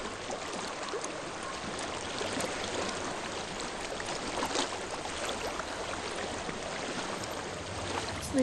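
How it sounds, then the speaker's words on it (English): Steady rushing water in the video game Hellblade: Senua's Sacrifice flows continuously, a broad hissing wash like a stream or pouring current, fairly constant in level with no voices. "I hear water."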